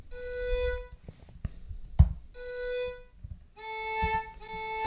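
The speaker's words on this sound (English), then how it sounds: "So that is the sound of the violin solo" Solo violin played back through MuseScore notation software, phrases of sustained bowed notes with clear harmonics separated by short gaps and a brief percussive knock near the middle, moderately quiet.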